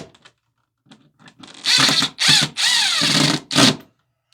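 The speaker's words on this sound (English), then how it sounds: "now I can take my drill and make sure that you're on forward, not reverse" A power drill set to forward drives screws into an electrical box during a ceiling fan installation, with several close, loud whirring bursts of varying length and short pauses between them.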